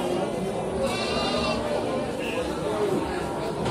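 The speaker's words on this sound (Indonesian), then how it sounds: "ada juga domba merino yang ada di sebelah sini teman-teman" Merino sheep bleat at a busy livestock market, a few calls rising over steady crowd chatter and people talking nearby.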